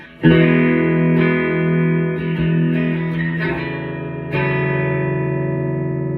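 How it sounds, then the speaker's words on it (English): Clean electric guitar chords, played through a Fender 5E3 Deluxe tube amp with spring reverb and no pedals, ring out loud and sustained with a warm tone and springy reverb tail, several strums over about six seconds. "I have a little bit of spring reverb, and I'm going through a Fender 5E3 Deluxe tube amp"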